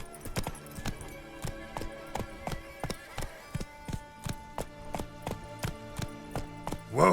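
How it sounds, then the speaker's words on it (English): A horse gallops in The Witcher 3, its hooves clip-clopping in a fast, even rhythm that stays close and loud throughout, ending with a louder burst at the end. "Whoa there, Roach"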